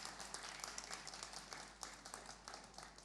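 Audience applause at a school event, a faint, steady patter of many hands clapping at a distance, continuing evenly with no voices over it.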